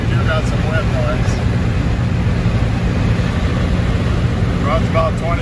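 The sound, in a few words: wind noise while driving a 1936 Dodge pickup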